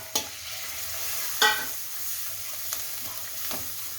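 Red masala and coriander being sautéed in a pan make a continuous close sizzle, with a few sharp scrapes and knocks as the spoon stirs.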